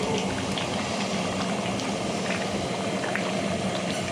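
Eggs and potatoes boiling in a pot at an outdoor winter picnic, a steady, loud bubbling and churning that continues unbroken throughout.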